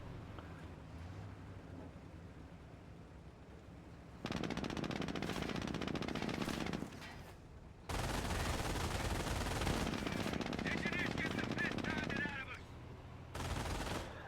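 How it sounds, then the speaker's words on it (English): Sustained bursts of machine gun fire in the Company of Heroes strategy game, with long rattling volleys that start and stop abruptly, loud and dense over a low battlefield background. "he's coming in with a machine gun"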